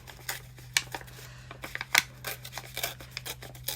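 Paper is torn by hand to make rough torn edges, with short crisp ripping bursts and small rustles spaced irregularly, quiet and close, with no talking.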